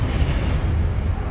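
A Confringo blasting spell goes off in Hogwarts Legacy as a single dull, rumbling boom that stays broad and steady through its short length.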